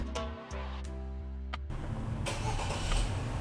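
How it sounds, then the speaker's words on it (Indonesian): A family car's engine starts by remote command from a phone app, turning over briefly and then settling into a steady idle, heard close by with no talking. "Yes, mobil langsung menyala."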